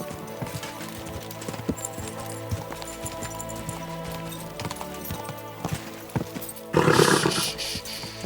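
Horse hooves clip-clop in Kingdom Come: Deliverance II, the steady footfalls mixed with game ambience and other effects, ending in a brief louder burst of noise.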